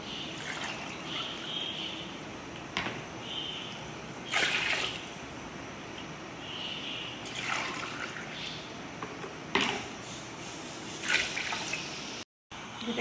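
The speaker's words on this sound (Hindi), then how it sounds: "अब हम डालेंगे इसके अंदर अपना पानी।" Water poured from a glass into a cooking pot of mushroom pulao, several separate pours each giving a short splashing, trickling burst over a steady kitchen background, fairly close.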